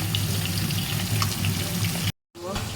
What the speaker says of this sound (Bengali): এই যে মাছ ভাজা চলছে আর কি মাছ ভাজছি কাতলা মাছে